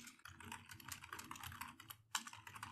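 Rapid, steady clicking of a computer keyboard as someone types in a code editor, faint and close, with a brief pause near the end before a couple more keystrokes.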